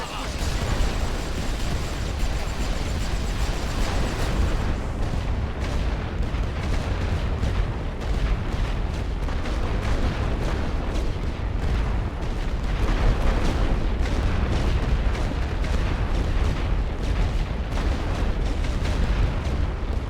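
A World War I artillery barrage in the strategy game The Great War: Western Front, made of a relentless stream of heavy booms and shell bursts that stays loud the whole time, with a voice speaking over parts of it.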